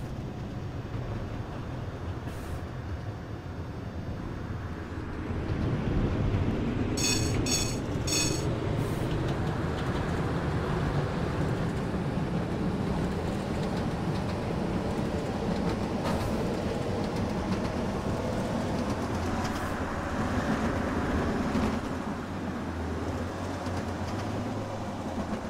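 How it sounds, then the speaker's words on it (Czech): A tram of type NF6D in the OMSI 2 simulator passes along its route: a steady low rumble of wheels on rails, with a brief sharp clatter and a louder, swelling passage, with no talk. "Pokud ale tramvaj NF6Dčko potkáme takhle na trase, tak si to sviští."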